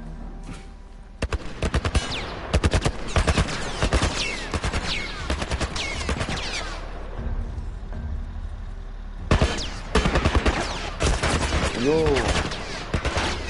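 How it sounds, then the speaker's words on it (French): A video game turret fires rapid, loud bullet bursts in long stretches, pausing briefly before resuming with another heavy volley, while a voice speaks at one point. "calme avec ta tourelle là, qui crache des balles"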